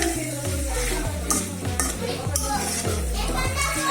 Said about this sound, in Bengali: সুন্দর করে নেড়ে চেড়ে দিচ্ছি।